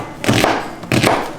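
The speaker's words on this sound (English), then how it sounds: "First, I will thinly slice some onions." A knife slices onions thinly on a board, two quick bursts of crisp chopping cuts close up, separated by a short pause.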